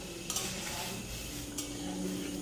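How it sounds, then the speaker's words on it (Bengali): Mustard seeds crackle and pop in hot mustard oil as a Bengali tempering starts for a dal, a steady low sizzle broken by two brief bright bursts of spitting, close by with no talking. "দিয়ে ফোড়নটা দিচ্ছি যখন সর্ষেটা এই সময় ফাটবে"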